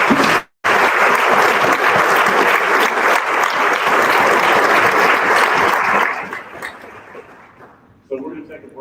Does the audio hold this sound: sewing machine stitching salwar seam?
no